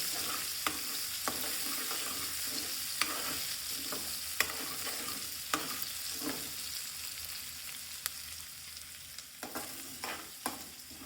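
Grated ingredients fry steadily in oil as green pigeon peas and green garlic are cooked, a constant soft sizzle broken by faint scrapes and taps of a stirring spoon.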